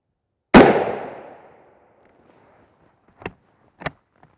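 A single loud rifle shot strikes a Militech NIJ Level IV armor plate, a sharp blast with a long decaying ring, then two smaller sharp cracks and a faint tick follow a few seconds later.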